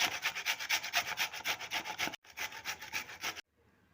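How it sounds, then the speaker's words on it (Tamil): Ash gourd being grated by hand for Kashi halwa, a rapid run of rough, scraping rub strokes up close, pausing briefly partway and stopping near the end. "அதில் வந்து நம்ம இந்த மாதிரி சீவி எடுத்துக்கலாம்."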